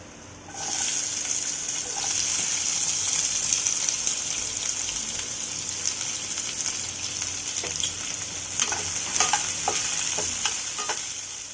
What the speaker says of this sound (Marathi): आता आपण टाकणार आहे याच्यामध्ये बारीक केलेला कांदा.